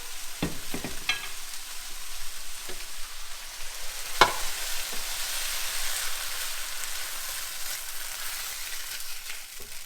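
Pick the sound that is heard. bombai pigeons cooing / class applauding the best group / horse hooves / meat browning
meat browning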